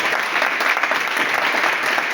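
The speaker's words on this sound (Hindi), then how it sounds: "मैं चाहूंगा एक बार सागर जी के जोरदार तालियां दीजिए।" Enthusiastic audience applause for a presenter at a demo event, a thick, steady burst of many people clapping at close range without pause.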